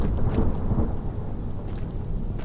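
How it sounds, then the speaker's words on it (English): Steady rain with low rumbling thunder in the Skyrim video game, a continuous wash of falling water and deep rolling booms close around the listener, with no talk over it. "It's raining."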